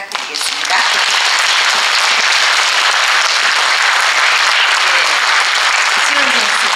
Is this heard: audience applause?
yes